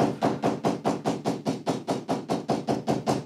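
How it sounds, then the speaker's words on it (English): A hammer taps down the welt on a thick leather purse, about fifteen quick, even strikes in a steady rhythm, close and crisp with no talk. "So now I'll just grab my hammer"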